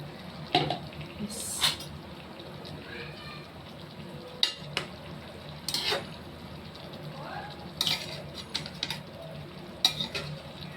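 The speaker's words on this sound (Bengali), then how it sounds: "একটু জল দিয়ে দিচ্ছি, মাছটা সিদ্ধ হবে" Water splashes into a simmering fish curry in a pan, setting off a steady close sizzle and bubbling broken by a few sharp clinks of utensils against the pot.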